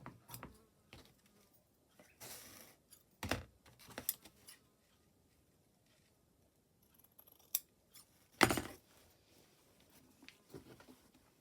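Scissors snip through paper for a vintage makeup case collage, making a few sharp, close cuts scattered among quiet pauses.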